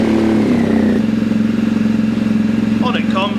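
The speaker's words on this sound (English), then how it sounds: "as soon as I switch the engine on," A motorcycle engine switched on, settling into a steady, rumbling idle with a clattering mechanical edge, loud and close, while someone talks over it.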